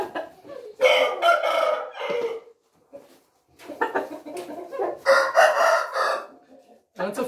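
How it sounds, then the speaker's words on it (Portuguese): A heavy, well-fed rooster crows loudly and close by in several long calls with short pauses between, mixed with some clucking and background noise. "Muito forte, esse galo subiu de peso."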